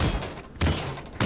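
Shooter video game gunfire comes in bursts of loud, close, dull cracks, three distinct shots spaced roughly half a second apart over constant background noise.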